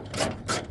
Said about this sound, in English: So again, another 10mm bolt coming out of there.